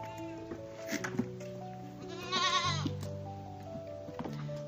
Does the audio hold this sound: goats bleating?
yes